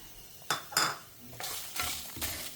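Curry leaves and dried red chillies hit hot oil with spices, bursting into sharp crackling sizzles as they are stirred with a metal spoon; several loud spitting bursts and scrapes close up, without talk.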